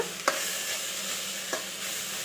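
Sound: tomato frying in a pan with sprouts

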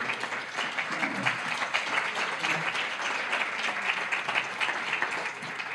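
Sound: dinner audience applauding

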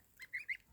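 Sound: goslings and geese honking on grass

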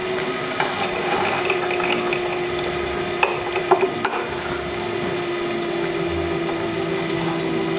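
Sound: stirring oil into sapogel to make handwashing oleogel

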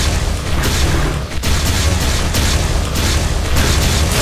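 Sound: explosions in the video game Star Break

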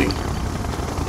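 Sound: siege chopper helicopter in the video game Red Alert 2

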